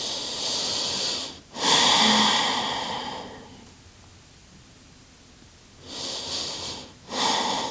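A person breathing deeply during a yoga stretch for sore muscles: a long, airy inhale, a quiet pause, then a slow exhale, with another breath starting at the end. Close and clear, with no talking.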